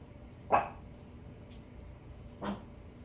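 Two sharp dog barks ring out about two seconds apart, somewhat distant, over a quiet hum.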